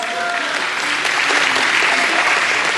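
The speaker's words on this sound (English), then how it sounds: "Give them all a big round of applause." An audience at the 2017 Finney County Fair breaks into applause after a stage skit, loud, dense clapping that holds steady for a few seconds.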